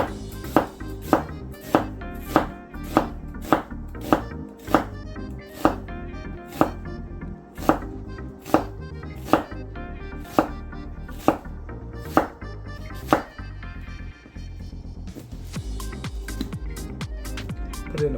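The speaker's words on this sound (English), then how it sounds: "Let's get this purple onion cut." A knife slices a purple onion thinly on a cutting board in a steady run of crisp, evenly spaced chops that slow slightly toward the end, close and alone with no talking.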